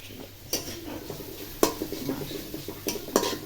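Greens being stir-fried in a pot, with a spoon scraping and clattering against the metal at irregular intervals over a low sizzle, close by and with no voices.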